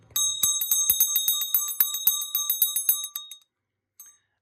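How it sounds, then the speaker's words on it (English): A small 1920s school bell, metal with a wooden handle and a small cast iron clapper, rung in a quick, even shaking run of about twenty bright clangs. It stops abruptly, then one faint final ring follows. "Again, just a nice little bell."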